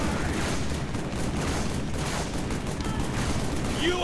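Rapid automatic assault rifle fire from Halo 3, a dense continuous burst of shots sustained for several seconds at close range, with a faint voice briefly underneath.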